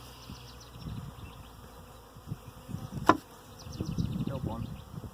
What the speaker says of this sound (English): just sitting here and just like being surrounded by bees